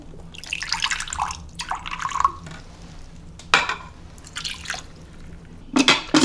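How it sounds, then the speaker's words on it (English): About a quarter cup of water poured into an Instant Pot with Chinese ribs, giving close splashy trickles in short bursts with brief pauses and a few sharper knocks near the end. "I'm going to add a little bit of water to this."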